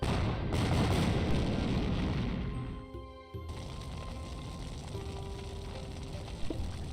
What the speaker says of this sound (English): Was that one of the fireworks just now? It sounded more like a real explosion.